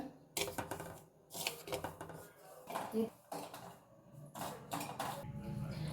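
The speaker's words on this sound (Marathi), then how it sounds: "रवा थोडा भाजून घ्यायचा" Semolina dry-roasting in a pan with sugar for a buffalo-colostrum kharvas, a spatula scraping and clattering against the metal in irregular bursts, fairly close, with no steady sizzle.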